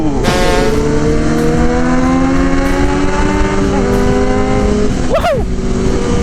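Big bike motorcycle ridden hard, engine roaring loud and close with rising pitch through repeated gear changes, a brief dip and another surge near the end.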